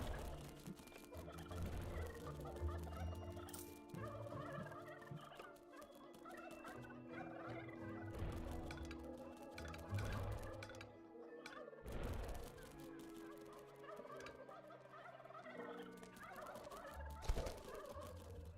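Chickens in the dungeon-management game Dungeons 3 cluck and gobble repeatedly over a busy game soundtrack, the bird calls coming in scattered bursts throughout.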